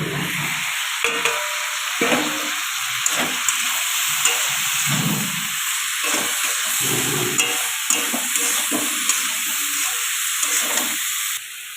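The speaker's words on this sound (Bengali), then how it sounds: "সবজিটা মশলাটা দিয়ে ভাজা ভাজা হয়ে গেছে" Mixed vegetables frying in a pan with ground coriander, cumin and Maggi masala, a steady close sizzle broken by repeated scraping stirs and clinks of a spatula, with no talk.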